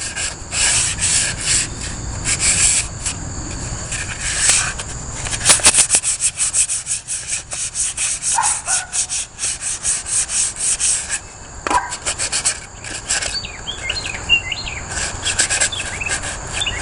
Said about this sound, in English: gonna give it a quick wipe down with the sandpaper